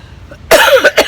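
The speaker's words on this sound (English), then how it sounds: "I'm going to cough and huff and puff for a couple minutes." A person coughs after finishing yard work, mowing a lawn and treating weeds: a few harsh, close coughs in quick succession following a quiet pause.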